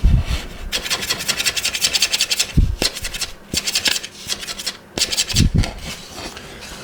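Violin maker scraping and scratching the wooden surface of a violin by hand, a series of rasping strokes in bursts with brief pauses, close and fairly loud, with a few light knocks between strokes.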